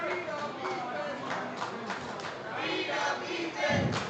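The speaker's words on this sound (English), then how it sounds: "the crowd letting Ethan know exactly how they feel about him" Loud, dense crowd noise fills a pro wrestling arena, a constant roar of voices with shouts rising and falling, surging louder near the end.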